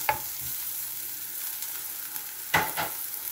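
Garlic, ginger and onion fry in hot oil for a pork and beansprout stir fry, a close, steady sizzle with a few sharp bursts of stirring and scraping in the pan, no voices.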